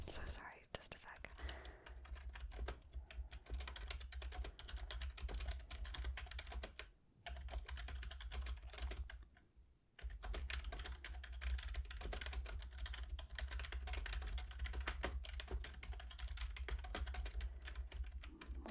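Soft, close typing on a computer keyboard while an essay's typos are corrected, a steady stream of light clicks with one brief pause, intimate and quiet under occasional whispering.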